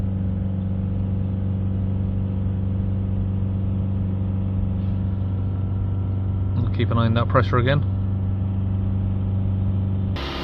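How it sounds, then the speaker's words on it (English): A Mitsubishi Outlander engine with a soot-overloaded DPF is held steady at about 3000 RPM during regeneration, giving a constant, even drone with a brief voice speaking over it partway through. "We're going to hold the revs back up again at 3000 RPM for another minute or so."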